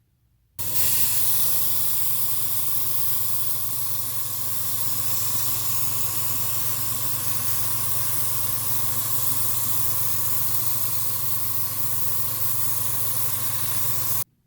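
Airbrush spraying Vallejo Model Air black paint as a base coat on Bandai Sprukits Halo 5 Spartan model armor and weapons: a sudden start into a steady, close, continuous airy hiss that holds evenly for over ten seconds, then cuts off abruptly.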